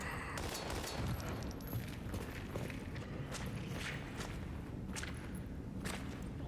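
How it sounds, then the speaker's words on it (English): Sharp pistol shots crack out in the survival horror video game Daymare 1998, a scattered series of loud bursts over a dense, busy game soundscape. "I'm gonna get my pistol out."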